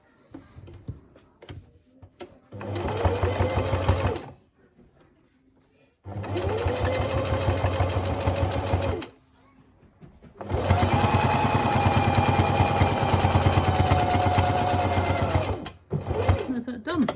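Sewing machine stitching fabric for a funky friends dolphin toy's fins and flippers: three loud, close bursts of rapid mechanical whirring and needle chatter, separated by short quiet pauses, with faint voices and child noise in the background.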